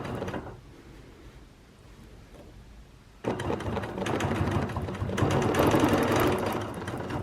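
Bernina Q16 longarm sewing machine quilting leaf and flower shapes along rulers, a soft hum that jumps into a loud rapid needle chatter and keeps running steadily, close up.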